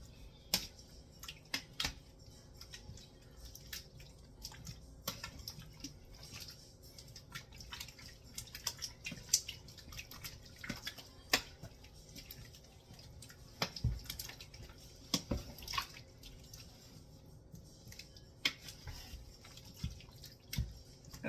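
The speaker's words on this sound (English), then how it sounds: "We're going to go ahead and give this a good stir." Creamy potato soup with cream cheese stirred in a crockpot, quiet wet clicks and irregular thick squelching taps from the spoon scattered over about twenty seconds, faint with no talking.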